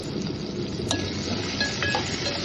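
Tomatoes sizzle steadily in a pan for ragi upma while a spoon stirs and clinks against the metal now and then, close and continuous with no talking.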